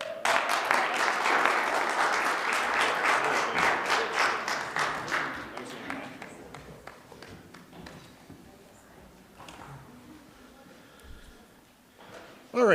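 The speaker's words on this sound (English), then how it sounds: "Another round of applause." Audience applause at a city council Committee of the Whole meeting, a dense round of clapping that fills the room for about six seconds, then thins out and fades to scattered claps and quiet room noise.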